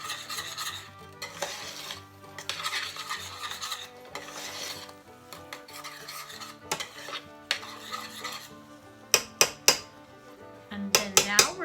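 A spoon scrapes and rubs against a pot while rice pudding made with egg, rice and dairy is stirred, giving repeated rasping strokes that turn into sharp clinks near the end, with no talking.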